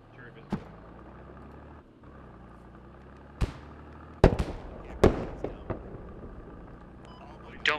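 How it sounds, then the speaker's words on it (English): Rocket explosions in a squad-based military shooter during indoor close-quarters fighting, several sharp blasts at irregular intervals, two landing close together midway, over a low rumbling engine drone. "Double rocket. Sounds like a good hit, boys."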